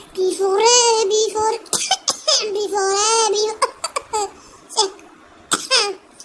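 Drawn-out laughter is broken by several short, sharp fake coughs during a one-versus-one game match, spaced irregularly, with brief vocal sounds between them.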